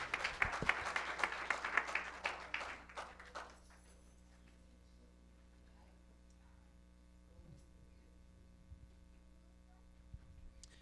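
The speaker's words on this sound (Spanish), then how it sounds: "Dale un aplauso más al Señor." A church congregation claps together during a Spanish-language doctrine question-and-answer service, a short burst of applause at moderate level that fades out after about three seconds into quiet room hum with a few faint knocks.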